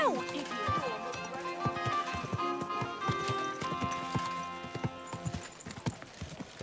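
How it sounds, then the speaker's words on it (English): Horse hooves clip-clop at a gallop in the medieval game Kingdom Come: Deliverance II, a rapid irregular drumming that stays close and loud, with a horse whinny and characters talking over it. "Your horse nearly trampled me!"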